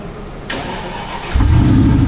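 A Mercedes G55 AMG's 5.4-liter supercharged V8 cranks over and fires up, settling into a loud, deep rumbling idle close by.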